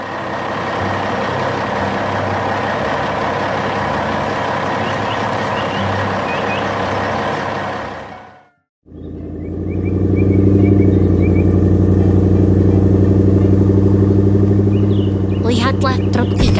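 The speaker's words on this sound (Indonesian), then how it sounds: "Sekarang truk-truk itu bisa melanjutkan perjalanan mereka dengan aman." Trucks rumble and idle heavily in an animated construction scene at a ski resort, a loud steady drone that briefly cuts out, then returns deeper, with rapid reversing beeps near the end.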